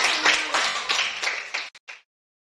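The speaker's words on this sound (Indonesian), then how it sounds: "Ya, kita kasih aplaus untuk kita semua." A group of students clapping together in a classroom, a brief burst of applause lasting about two seconds that tapers into a few scattered final claps before silence.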